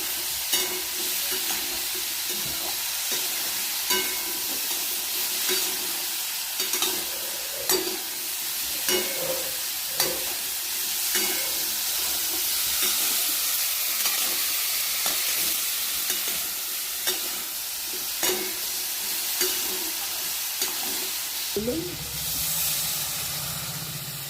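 Salt and turmeric powder being stirred into food in a pan, with a steady sizzling hiss and repeated scraping clicks of the spatula throughout, loud and close, with a low rumble entering near the end.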